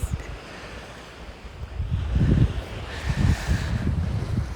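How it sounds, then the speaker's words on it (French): Ocean waves and wind at the far eastern tip of an island facing the mainland, with steady surf washing in rising swells and wind buffeting the microphone, alone without talk. "L'océan devant moi, et juste derrière l'océan, le continent."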